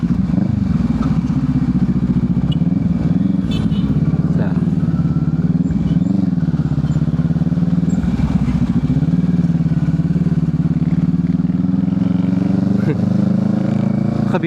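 Big bike motorcycle riding along a road, its engine droning steadily and loudly throughout with shifting pitch and heavy wind rumble, a rider's voice talking over it.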